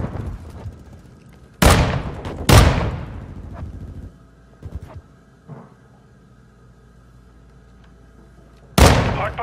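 Stun grenade blast and gunfire in the Modern Warfare 2 video game, Hardpoint mode on a hydroelectric dam map: several sharp loud bangs with decaying tails, separated by quieter gaps with small distant pops.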